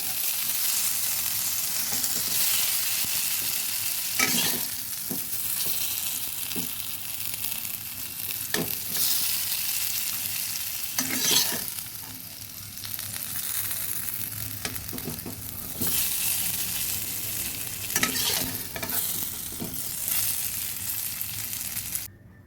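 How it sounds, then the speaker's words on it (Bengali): Potatoes frying in oil in a kadai for a Bengali pumpkin-stem and potato curry, a steady close sizzle with intermittent scraping stirs throughout. "আলুগুলো ভাজা হয়ে গেছে, তুলে নেব।"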